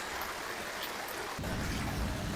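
Heavy rain drumming steadily on a camping tent during a thunderstorm, a dense continuous hiss that grows heavier and louder partway through, with no talking.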